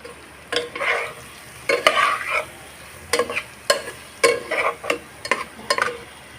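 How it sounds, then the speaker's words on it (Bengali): Egg dopiaza with green chillies being stirred and mixed in a pan: a series of scraping spatula strokes in uneven bursts over a soft, steady sizzle, close and fairly clear. "দিয়ে ভালোভাবে নেড়ে চেড়ে আমি মিশিয়ে নিব আর দিব কয়েকটা কাঁচা লঙ্কা"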